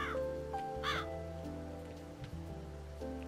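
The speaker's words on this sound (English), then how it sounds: "Why do I suddenly have a crow now?" A crow caws a few times in the game Calico, bright calls standing above a steady hum of game music and ambience.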